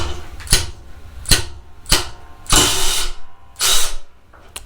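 A Milwaukee Fuel cordless ratchet set to 35 foot-pounds runs in five short, sharp mechanical bursts close by, each a quick buzzing whir with clicking, separated by brief pauses.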